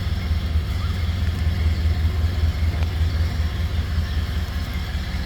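A 1930 Ford Model A Roadster with a 201 cubic inch L-head inline six runs steadily nearby, a low, even rumble that holds without revving.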